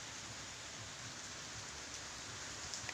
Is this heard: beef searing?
no